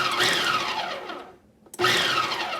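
A blender whirs in two quick low pulses while mixing homemade hand sanitizer gel made with rubbing alcohol, a close buzzing motor that cuts out briefly and then revs back up.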